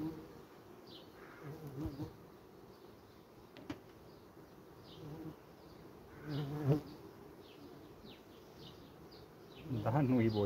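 Honey bees hum steadily around an open beehive during an apiary inspection, a close, continuous drone with individual bees passing near, and a few soft knocks and rustles from handling the hive.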